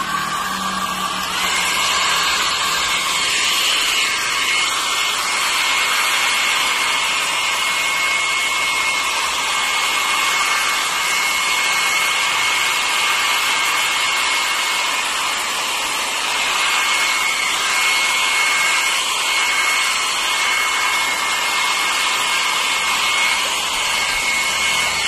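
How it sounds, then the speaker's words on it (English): A hair dryer blows steadily at close range, a constant airy whir with a high motor whine that holds unchanged for the whole stretch. "Dry it using a hairdryer or dry it in sunlight."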